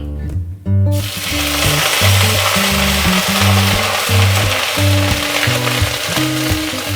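Ginger paste frying in hot oil with cardamom and cumin seeds for a Bengali tangra fish curry, a steady loud sizzle throughout, with a sharp burst as the paste hits the pan and a repeating low tonal hum underneath.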